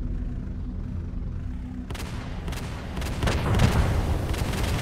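Tank cannon firing in the War of the Worlds video game: after a low steady rumble, a sudden loud blast opens a dense run of booming shots and gunfire that keeps rolling, no voices.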